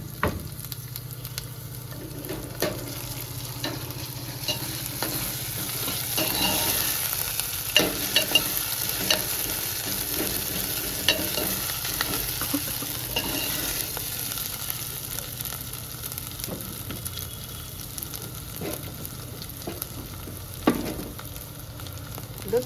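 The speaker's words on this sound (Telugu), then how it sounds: "ఉల్లిగడ్డ ఫ్రై అయిందండి కొంచెం. ఇప్పుడు దంచుకున్న అల్లం వెల్లుల్లి పేస్ట్ వేసుకుంటుంటా." Onion sizzles steadily in hot oil as ginger-garlic paste is added for an Andhra-style tomato dal. The frying hiss is close and continuous, with scattered scrapes and clicks of stirring and no voices.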